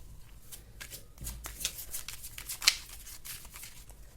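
Tarot cards are shuffled and drawn by hand, a quick riffle of flicking card edges followed by a crisp snap as one card is pulled, quiet and close.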